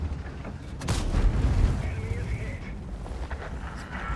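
A tank gun fires in World of Tanks, one deep booming shot followed by a rumbling tail, with someone talking over it and a few lighter impact sounds afterward.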